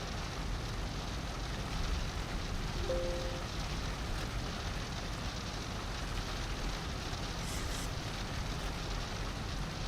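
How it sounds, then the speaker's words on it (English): Rain falls steadily in a flight simulator cockpit, a dense, even hiss that holds at the same loudness from start to finish with no talk. "Don't see any, but it sure sounds like rain."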